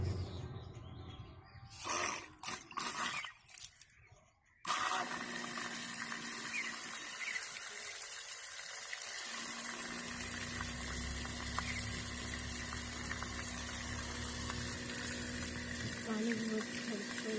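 A homemade water pump driven by a DC motor runs with a steady whirring hum and a rushing, splashing water flow. Brief handling noises come first, and a voice is faintly heard under it.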